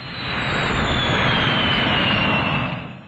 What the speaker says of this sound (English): the expanding gas roars from the jet pipe with tremendous force. This is the turbine jet